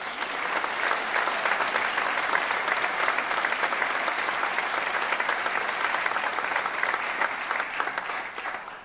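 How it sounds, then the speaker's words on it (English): Sustained, dense applause fills a hall during a Buffalo State of the City address, many hands clapping continuously and loudly before tapering slightly at the very end. "Let's give him a round of applause."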